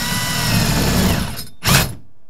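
A power drill whirs steadily while boring a hole in a metal door, then stops briefly before a short, loud final burst of drilling, close by with no talking.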